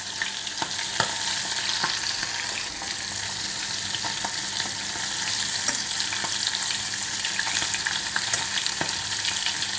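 Halloumi cheese fries in a pan with a continuous close, even crackle and sizzle, dotted with small pops and light ticks of turning the pieces, and no voices.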